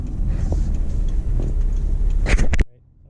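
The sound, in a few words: 2007 Toyota Camry XLE V6 driving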